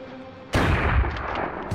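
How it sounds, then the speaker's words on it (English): A shotgun blast from the video game Fighting Force: one sudden, loud, full-bodied boom after a quiet moment, with a short rumbling tail fading over the next second. "Oh, I got a shotgun."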